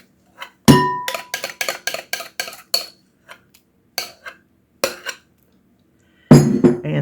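A utensil knocks and scrapes against a bowl while almond flour is stirred into melted cheese, making a run of quick close clinks and taps, then a few scattered knocks and a final rough clatter.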